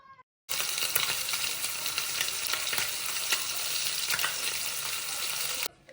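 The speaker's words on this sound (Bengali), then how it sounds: "এখন আমি মাছগুলো ভাজবো।" Hilsa fish seasoned with turmeric and salt fry in hot oil in a pan, a loud, dense, continuous crackling sizzle that starts abruptly and holds steady up close before cutting off.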